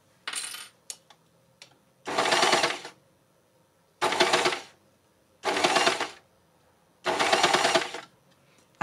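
Close by, an overlocker sewing machine runs slowly in four separate whirring bursts, each about a second long with quiet gaps between, after a few light mechanical clicks at the start.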